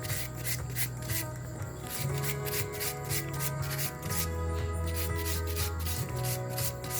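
A carrot rubbed against a grater for a Vietnamese green mango salad, quick rhythmic rasping strokes close up and fairly steady, with soft background music beneath and no speech.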